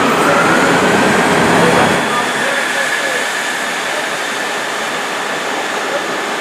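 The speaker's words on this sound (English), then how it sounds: "We've got a first train going out" A 166-class diesel train rumbles and hisses loudly as it pulls away from London Paddington, the heavy low roar easing after a couple of seconds into a steady broadband wash.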